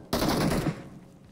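A single loud shotgun blast from the PUBG video game hits close by. It is a heavy burst of about half a second that trails off into a short fading echo.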